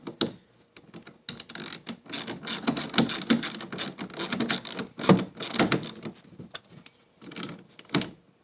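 A ratchet tightens the screws of a Hellcat Stonsho plate holder, close and clicking in quick bursts of pawl ticks with short pauses between turns. The clicking grows busy in the middle and there is no talk.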